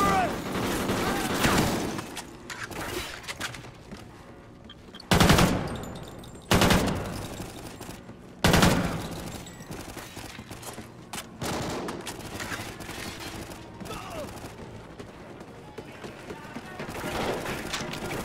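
Rapid Call of Duty Ghosts gunfire: sustained machine-gun fusillades with several sharp, heavy bursts standing out, mixed with shouted voices over the fighting.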